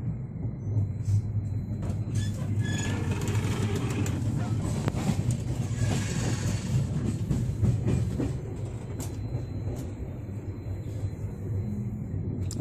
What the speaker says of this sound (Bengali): ট্র্যাক চেঞ্জ হচ্ছে আবার।